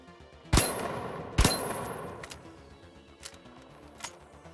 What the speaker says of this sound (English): the sawn-off shotgun, a very short-range 2-shot shotgun